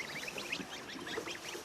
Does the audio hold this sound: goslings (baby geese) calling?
yes